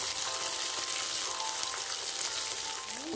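Onion fries in hot oil with a steady, even sizzle that holds close and moderately loud throughout, with no voices.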